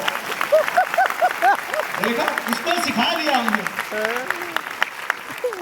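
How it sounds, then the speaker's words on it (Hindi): Applause from participants at a leadership development program in Delhi, acknowledging a trainee: scattered group clapping, moderately loud, running under a voice speaking over it. "एक बार उसके लिए ताली बजाओ"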